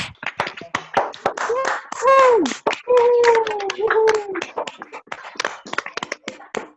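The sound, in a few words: virtual round of applause over online meeting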